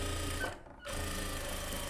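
A sewing machine runs a rough stitch along a puff sleeve, a steady close mechanical whir with a brief pause in the middle before the stitching resumes at an even pace, no voices.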